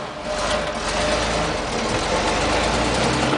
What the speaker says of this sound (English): this motor does not break a sweat pulling this truck at all